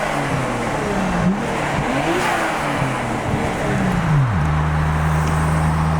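A Nissan Skyline GTR R33 engine at a Japanese JDM car expo climbs through several sharp revs amid outdoor crowd and traffic noise, then settles into a steady high-pitched hold near the end.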